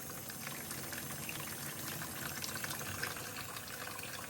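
Warm water runs from a tap, filling a sink container to cover ranunculus corms, a steady close gushing pour without pauses or talking.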